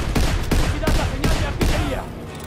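Enemy gunfire in the World War II shooter Call of Duty: WWII, five sharp, loud shots spaced roughly evenly over two seconds, each with a booming low tail, followed by a fading reverberant decay.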